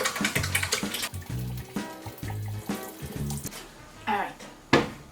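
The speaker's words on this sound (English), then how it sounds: "I better wash my hands and not rub my arms" Hands being washed under a running tap in a kitchen sink, the water splashing and trickling in uneven bursts while a person talks over it.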